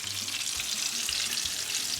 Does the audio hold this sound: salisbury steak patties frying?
yes